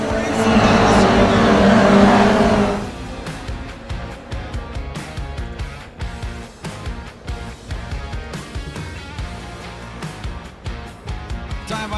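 Twenty-one GR Cup race cars in a sim racing game take the green flag, starting with a loud roaring surge of engines that settles into a dense, continuous mix of revving and passing cars.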